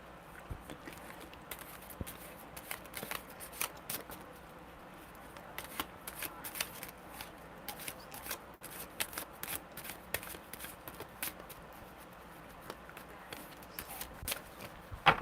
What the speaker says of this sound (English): Alright, Omar, tell me when to stop shuffling.